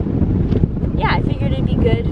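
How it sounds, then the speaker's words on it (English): Aboard a sailboat, strong wind buffets the microphone in a heavy, constant low roar. A person talks briefly over it. "Sorry, it's so windy."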